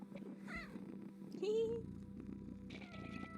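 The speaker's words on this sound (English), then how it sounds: "Hey, look, a cat." A cat in the video game Mayak meows with a rising, bending cry near the middle of the short stretch, set over game ambience and a soft continuous hum, with people talking around it.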